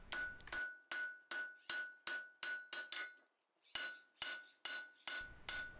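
Blacksmith forging a hot steel bar for a Suffolk latch handle on an anvil, about eleven sharp ringing hammer blows in a brisk rhythm, with a short pause midway, close and clear.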